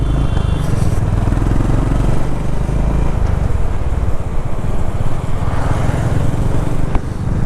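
A Bajaj Dominar 400 motorcycle rumbles with a steady engine drone and wind roar while riding on a return trip from Namobudha to Kathmandu. The noise is loud, continuous and close, with faint rattles and chain noise and no talk.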